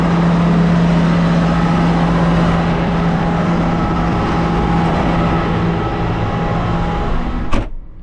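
A tractor engine runs on a hay farm, a loud steady low drone with a constant hum close by, ending in a brief clunk.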